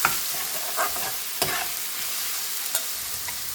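Chopped onions and browned garlic sizzle and get stirred in a pan over medium heat for a monkfish curry, a steady close frying hiss with a few sharp stirring scrapes.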